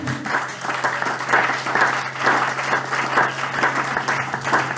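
A church congregation applauds to acclaim the Lord. The sustained clapping is loud and fills the room, rising and falling in gentle rhythmic swells with no speech over it.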